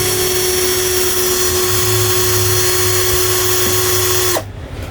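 A PyrosX 20V cordless drill spins freely at speed 1, giving a loud, steady, close high-pitched whir that cuts off sharply near the end.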